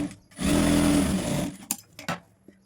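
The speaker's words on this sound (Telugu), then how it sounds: "ఇక్కడ ఒక స్టిచ్ వేసుకోవాలి." Sewing machine running a short continuous burst while stitching the halter neck of a dress, close and steady for about a second, followed by a few quieter clicks and fabric handling sounds.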